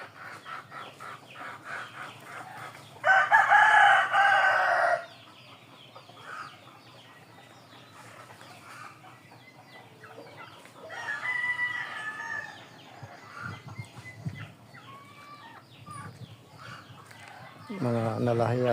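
Chickens on a farm at midday, with a loud nearby rooster crow and scattered clucking and calls, set among quieter stretches and someone speaking intermittently.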